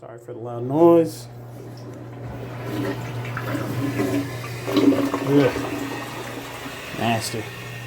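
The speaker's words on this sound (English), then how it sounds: "I'm gonna have to flush that myself." A toilet in a truck-stop restroom flushes close by with a loud rushing surge, followed by gurgling and refilling water; a man groans briefly over it.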